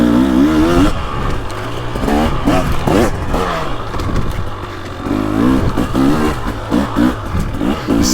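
A KTM 300XC dirt bike with throttle body injection revs repeatedly in the woods, its two-stroke engine rising and falling in loud, close bursts of throttle throughout.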